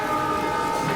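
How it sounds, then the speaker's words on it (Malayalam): A train rumbles past close by in a short burst of steady, loud rolling noise with a sustained tonal whine, no voices heard. "അതെ, ട്രെയിൻ പോയോ?"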